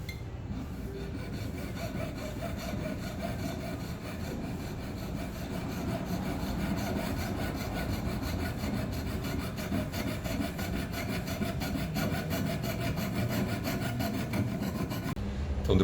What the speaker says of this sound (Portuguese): depois que eu serrei o anel, já tenho provavelmente ele na medida mais adequada